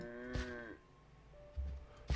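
A cow moos in a modded Minecraft-style video game, giving one clear low call followed by a few soft thumps, heard alone at a quiet level.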